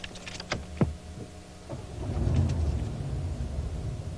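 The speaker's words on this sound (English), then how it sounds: "Go ahead and start it up and hear how quiet the engine is." A quiet car engine cranks and starts after a few clicks, settling into a low, soft idle rumble that builds gently and holds steady.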